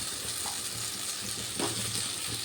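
Previously fried potatoes go into a pan of well-cooked spice paste, giving a low, steady sizzle with a few stirring scrapes.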